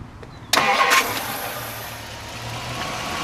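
A 1963 Ford Thunderbird's 390 V8 cranks and fires with a sharp burst, briefly revs, then settles into a low, smooth idle, close and alone with no talk.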